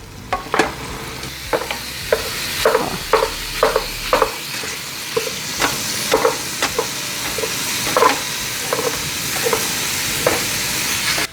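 Ground beef sizzling in a skillet while a utensil breaks it apart, a steady hiss punctuated by repeated sharp scraping knocks against the pan, close and clear with no talking.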